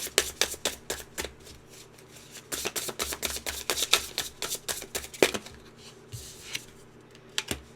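Tarot cards shuffled close up in a rapid run of crisp riffling snaps and flutters, pausing briefly and resuming, with no talking.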